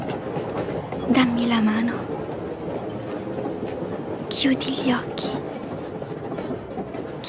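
A moving train's steady rumble on the rails carries through the whole passage, with occasional squeals and clatter. A voice speaks quietly over it.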